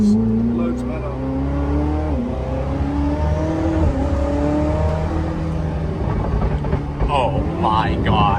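A Koenigsegg Jesko's engine, not yet warm, revs up in steady climbing steps, loud and close from inside the car, with a rising whine and rumble and a voice talking over it toward the end.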